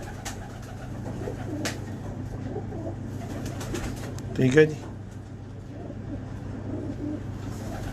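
Pigeons coo softly in a loft, with a brief, clearer cooing call midway. Someone talks over the low ambient hum.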